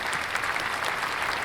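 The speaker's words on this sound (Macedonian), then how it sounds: "дајте аплауз за најдобриот магионичар во Дримленд" A cartoon audience applauds a magician with dense, continuous clapping that stays at an even level for the whole stretch, with no talking over it.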